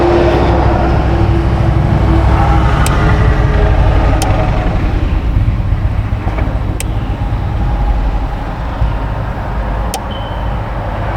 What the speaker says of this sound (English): Wait for this truck to go by. Or school bus, rather.